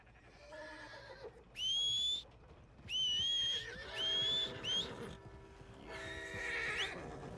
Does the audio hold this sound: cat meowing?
no